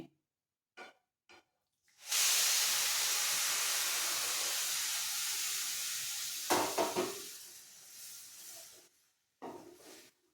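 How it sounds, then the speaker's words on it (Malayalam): Water pours into a hot pan of semolina for chicken biryani with a loud, sustained sizzling hiss that gradually settles, followed by a few clinks and stirring sounds. "ഇതിലേക്ക് കുറച്ച് വെള്ളം ഒഴിച്ചു കൊടുക്കുകയാണേ"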